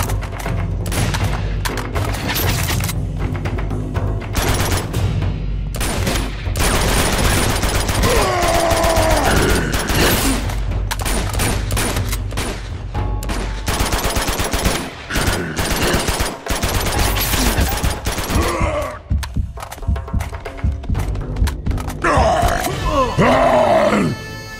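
Rapid gunfire in the video game Uncharted 2, with dense, loud bursts of shots running almost nonstop alongside rumbling game effects and occasional shouted voices.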